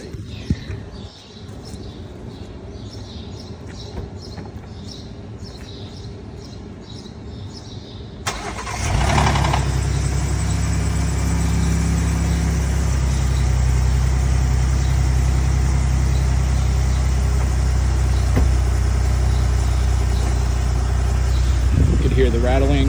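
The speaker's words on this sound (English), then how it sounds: "Hear the rattling on startup." Second-generation Ford F-150 Raptor engine cold-starting with a cam phaser rattle, loud and close: a quiet stretch with faint birds gives way to a sudden start at about eight seconds, then a steady, rough idle continues to the end.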